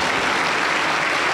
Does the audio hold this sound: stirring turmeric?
no